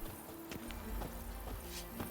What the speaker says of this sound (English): Even a horse drops if you ride it at a constant gallop.